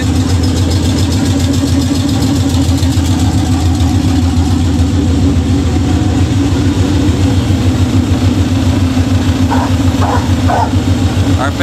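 A budget-beater Chevelle's engine roars loud and steady through a burnout with its tire spinning, a continuous heavy drone that never lets up, while a few brief higher squeals break through near the end.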